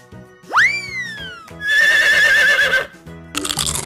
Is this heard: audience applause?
no